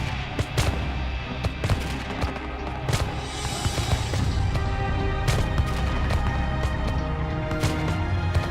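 Musket fire at a Revolutionary War battle reenactment of Lexington and Concord, militia shooting at marching British Redcoats: scattered sharp reports crack again and again over a dense, busy background.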